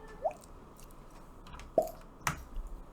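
A voice imitates the drip-like dice roll sound from the Roll20 tabletop platform, making a few soft wet plops spaced across a quiet stretch, with one clearer drop near the middle.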